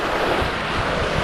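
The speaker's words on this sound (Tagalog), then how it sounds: "Oh, lalaki na alon oh." Big ocean waves roll and crash beside a small fishing boat, a dense, loud wash of surf mixed with wind buffeting the microphone, continuous with no pauses.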